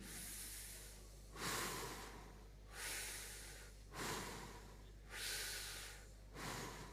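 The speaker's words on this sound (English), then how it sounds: "Breathe in." Long, steady breaths drawn in and let out through the nose during a guided emotional-release exercise, several slow rising-and-falling cycles heard close and alone over a low steady hum.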